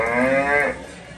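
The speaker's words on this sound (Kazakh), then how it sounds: "Мынадай сиыр." A cow moos once, loud and close, a sustained harmonic low call lasting under a second before fading into quiet background.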